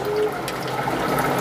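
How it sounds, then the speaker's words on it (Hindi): Yogurt, about 200 grams, being poured into browned mutton cooking in separated oil in a pan, a soft, steady wet pouring and sizzling wash, close and continuous for a moment. "अब हम इसमें अपनी दही डालेंगे।"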